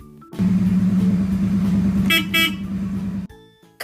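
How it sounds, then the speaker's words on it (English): A car engine hums steadily and loudly nearby, with a short burst of horn toots near the end before the sound cuts off. "A car goes on the road and passengers can ride in the car too."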